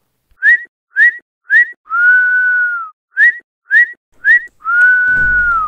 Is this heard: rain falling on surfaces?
no